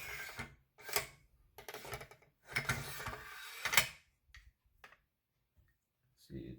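Metallic clicks, slides and clunks as parts of a field-stripped Scar-17 rifle are fitted back together at close range, then a few sparse, quieter clicks.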